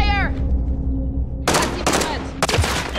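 Bursts of automatic rifle fire in Call of Duty Modern Warfare multiplayer, three loud close rattling volleys after a quieter opening with a brief tone, over steady game background noise.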